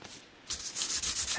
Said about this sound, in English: I should be able to just trust that the increasing grit of the sandpaper is going to progressively take away any